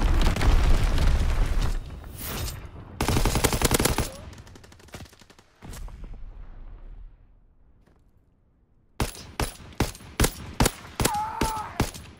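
Video game bomb strike and strafing gunfire: heavy booming blasts and bursts of rapid fire in the first few seconds, a fading rumble, then a string of sharp, loud gunshot-like bangs near the end.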